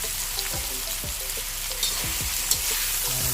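Tofu sizzles and fries in a pan with tomato while a utensil stirs and scrapes against it a few times, close and steady, for a stir-fried kangkong and tofu dish in oyster sauce.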